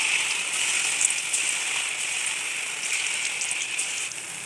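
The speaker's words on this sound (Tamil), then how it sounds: "இப்போ நம்ம கட் பண்ணி வச்ச இட்லியை நல்லா டீப் ஃப்ரை பண்ணி எடுத்துக்கலாம்." Idli pieces deep fry in hot oil, a dense, even sizzle and crackle that holds steady for several seconds at close range.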